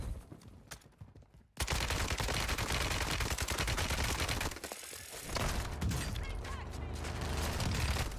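Loud, dense automatic gunfire in a first-person shooter video game, sustained rapid bursts after a quieter opening with a brief lull midway, mostly alone with little talk.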